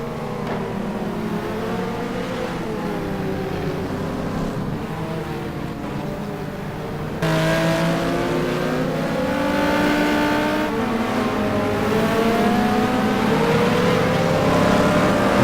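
Simulated race cars in a sim racing game at Spa, a dense layered engine drone with several cars revving and shifting through corners, growing louder partway through and continuing steadily.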